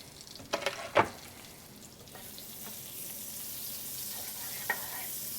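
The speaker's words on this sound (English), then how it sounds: "I got the saute pan preheated on medium high. Drop in our butter." Butter with a little olive oil dropped into a preheated saute pan on medium high, a few sharp clatters and a burst of sizzle at first, then a soft steady hiss of melting butter.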